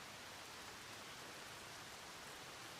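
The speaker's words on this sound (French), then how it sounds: "il s'est vraiment mis à pleuvoir pour de bon" Heavy rain pours down in an animated series scene, a dense, steady hiss that holds evenly from start to end with no voices over it.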